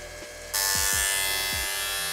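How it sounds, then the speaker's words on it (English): 1000cc fuel injectors running on a flow testing bench give a loud, steady high-pitched spray hiss that cuts in abruptly and holds, with a few low thumps underneath. "So in flow testing our injectors"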